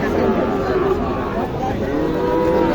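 Sahiwal cattle at the Joypurhat new cattle market moo amid a loud, continuous hubbub of talking voices and crowd noise.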